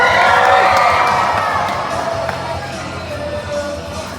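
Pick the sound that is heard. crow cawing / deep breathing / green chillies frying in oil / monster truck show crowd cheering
monster truck show crowd cheering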